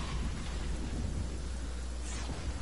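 A storm in a PC video game rumbles with steady rain and low, rolling thunder, a dense continuous wash with no voices.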